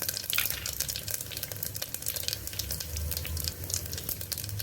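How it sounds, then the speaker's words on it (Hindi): Whole spices and asafoetida crackle in hot mustard oil in a pan, a close, continuous sizzle with fine popping throughout and no voices. "अच्छे से तड़कने देंगे। हो गया, अब डाल दी हींग।"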